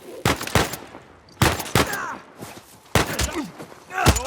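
Sniper gunfire from the video game Uncharted 4 rings out as three loud, sharp shots, spaced about a second and a half apart, each with a hard crack and echoing tail.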